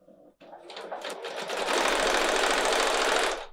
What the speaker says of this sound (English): I'm gonna go ahead and sew